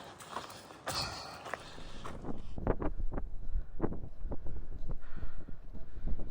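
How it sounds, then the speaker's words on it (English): Wind gusts steadily across a mountain section of the Pacific Crest Trail in cold, snowy conditions, a broad rushing roar buffeting the microphone, with faint footstep-like crunches mixed in and no talking. "Wind is picking up."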